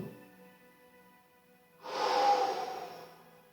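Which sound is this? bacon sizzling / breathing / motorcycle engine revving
breathing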